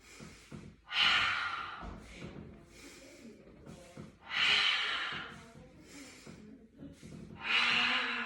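During a home Pilates flow, three strong breaths are taken in through the nose and pushed out in forceful exhales, each a breathy rush spaced a few seconds apart with quieter sniffs between, close and clear.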